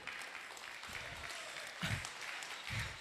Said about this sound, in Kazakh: Қол шапалақларды ұрып.